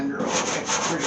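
A board sander works over the trunk body of a 1929 Chrysler, giving a steady, close abrasive rubbing hiss with slight surges in stroke and no talking.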